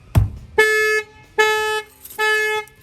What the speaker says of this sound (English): Fires off the alarm.